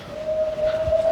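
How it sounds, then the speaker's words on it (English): An Isle of Man steam railway train approaching, a sustained steady whistle tone sounding clearly over faint rumble, brief and moderately near. "I think I can hear my train."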